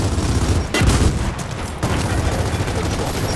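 In Gears of War 4 on Xbox One S, an enemy shooter's rapid gunfire rattles loud and close in dense bursts, with a heavier blast partway through.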